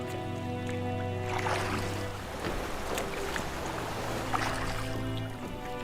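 A boat out on the open sea: a steady low droning hum runs throughout, with washes of water and surf swelling over it twice, fairly loud and without voices.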